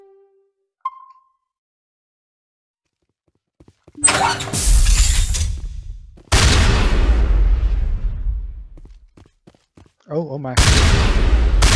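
Weapon fire with explosive shredder ammo in Mass Effect 1 Legendary Edition: after near silence, three loud, explosive bursts crack out with shattering, ringing tails, and a brief voice is heard between them.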